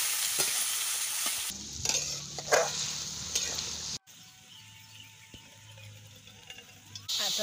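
Kadvanchi vegetable frying in oil with garlic in a home kitchen, a loud hiss and sizzle with spoon stirring, briefly interrupted midway and resuming at a softer level before swelling again.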